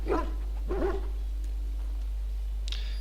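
Ill dog in Dragon Age giving two short, close barks followed by quiet whimpering and a faint high yelp, under a steady low hum.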